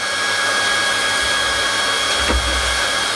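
Hot air blows steadily from a plastic welding gun, a loud, even rushing hiss with a thin whine on top, a short thump near the end, and no voices.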